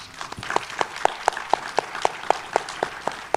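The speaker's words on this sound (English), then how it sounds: "Can we give them a round of applause?" Sparse, evenly spaced claps from an audience applauding a panel at a live event on protecting Black music, with about a dozen distinct hand claps in a steady rhythm, moderately close and alone without speech.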